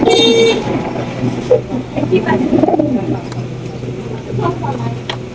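Soft coos close by from a large white Bombay pigeon, mixed with people talking and a brief high tone at the start.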